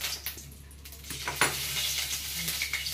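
Hot oil sizzles in a pan for a Bengali raw papaya and pumpkin mash, a steady close frying hiss with a few sharp clinks of utensils against the pan.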